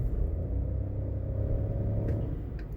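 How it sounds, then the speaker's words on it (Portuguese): A Peugeot 2008 GT Hybrid with a CVT gearbox gives a low, steady engine rumble under light acceleration, and two faint, short airy puffs from the turbo come late in the clip. "quando você dá aquela aceleradinha, você ainda ouve o tch, tch."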